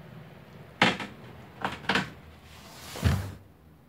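An oven door swings open so a thermoformed polycarbonate windscreen can be lifted out: a sharp clunk, two quicker softer knocks, then a heavier thud near the end, close by in a quiet room.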